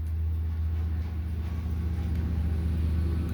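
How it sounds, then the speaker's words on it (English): A lawnmower runs outdoors, heard indoors as a constant low engine drone with a slight rough pulse, steady and moderately loud, with no talk over it. "I am terribly sorry if you can hear the lawnmower outside."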